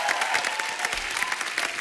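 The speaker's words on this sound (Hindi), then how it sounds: "जोरदार तालियां हो जाए" Loud audience applause for actor Prabhas and director SS Rajamouli on a television show, a dense, close wall of clapping with a few cheers mixed in, steady throughout.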